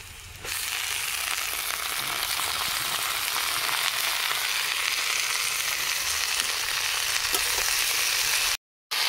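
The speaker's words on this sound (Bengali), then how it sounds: "এবার কুচিয়ে রাখা শাক দিয়ে দেবো।" Chopped leafy greens frying in oil with onion, garlic and black cumin, giving a steady, close, loud sizzle and hiss that runs unbroken except for a brief cut near the end.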